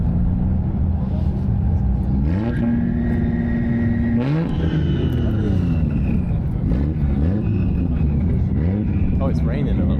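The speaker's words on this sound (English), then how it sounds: "Is he giving it a rev?" At Daikoku PA, a popular Japanese car meet, a car engine revs hard several times in quick rising bursts over a constant idling rumble of other vehicles, with people talking nearby.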